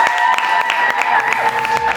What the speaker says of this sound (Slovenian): Lepo prosim, en aplavz.